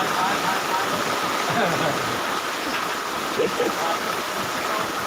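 Heavy rain pours during a rainstorm, a dense continuous hiss of falling water that stays steady and loud throughout, with a faint voice low underneath.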